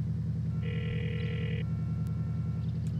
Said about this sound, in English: Call Jerry to detonate the bomb